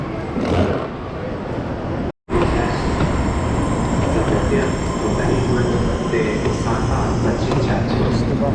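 A local train rumbling into a station in Kaohsiung, Taiwan, loud steady roar of wheels and carriages with a brief cut in the middle, no clear talk.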